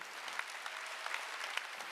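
Congregation applauding during a Sunday church service, a dense, steady wash of clapping heard at a distance and fairly soft, with no breaks over two seconds.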